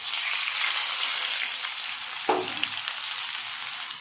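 Ground mustard paste dropped into hot oil left from frying pabda fish, with black cumin seeds already tempering, meeting a loud, even sizzle with a sudden sharp splutter as it hits the pan, then settling back to a bright hiss.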